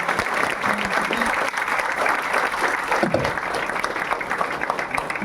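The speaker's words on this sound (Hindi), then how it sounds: "एक बार ज़ोरदार तालियां हो जाए मैम के लिए" Audience applause fills a college lecture hall at a government engineering college, a dense, steady round of clapping lasting throughout, with faint voices mixed underneath.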